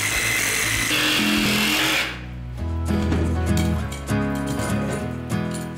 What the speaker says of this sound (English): I'm hoping when I drill through this floor that I'm not going to hit a stud.